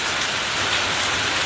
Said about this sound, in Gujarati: અમારે વરસાદ ધોધમાર ચાલુ થઈ ગયો છે